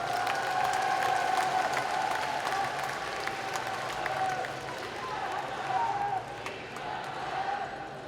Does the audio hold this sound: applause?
yes